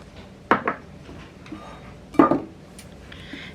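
Flour, baking powder, baking soda and kosher salt being mixed in a bowl for buttermilk biscuits, heard as two sharp utensil clinks against the bowl and a few softer scrapes, close and alone.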